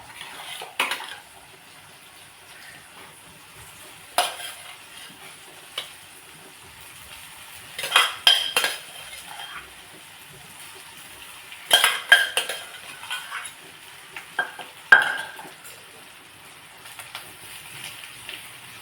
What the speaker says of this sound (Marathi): आता व्यवस्थित अशी हलवून घ्यायची आहे